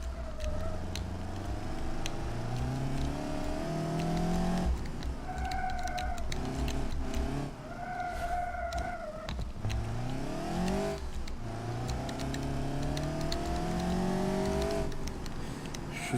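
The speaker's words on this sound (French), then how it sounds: "ceux qui aiment entendre les moteurs, ils seront servir" Car engines revving and accelerating in the driving game BeamNG.drive, heard from a hood camera as a continuous loud drone with rising and falling pitch sweeps through gear changes, with no talking.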